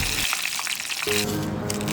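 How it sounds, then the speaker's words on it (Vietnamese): Meat-stuffed chili peppers deep-frying in hot oil on a second quick fry give a steady, close, crackling sizzle throughout, with no voices. "Lần 2 này thì mình chiên khá là nhanh, đâu đó khoảng tầm 2 phút"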